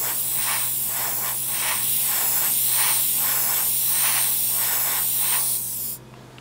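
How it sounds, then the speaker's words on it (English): An airbrush sprays Mission Models acrylic paint in a steady, close hiss that pulses gently in strength for about six seconds, then cuts off abruptly. "let's just spray some right here, just like we did with the other part"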